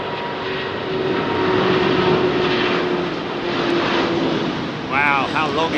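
A large airliner takes off from Heathrow Airport runway 27R, a loud steady engine roar filling the whole clip, with a voice talking near the end.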